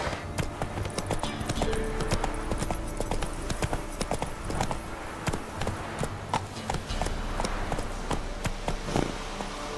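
Geralt's horse Roach galloping in the video game The Witcher 3, a dense, fast clatter of hooves, close and steady, with a faint snort or whinny now and then and no speech.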